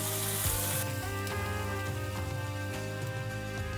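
Finely chopped medium onions browning in a pan for an aloo chicken curry, a steady close sizzle throughout with faint stirring scrapes, no voices.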